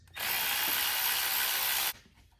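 A 12mm socket on an extension, driven by a power tool, loosens an alternator bolt on a 2007 Lexus ES350, giving a loud, steady whirring burst of about two seconds that stops abruptly.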